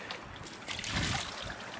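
Water is poured onto a dog's cooling coat at a Dartmoor wild camp, a faint, close trickling and splashing that swells briefly in the middle.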